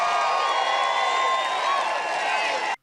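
Rally crowd cheering in Nevada, a loud, sustained swell of massed voices and whoops with a faint tonal voice or horn line running through it, holding steady before cutting off abruptly.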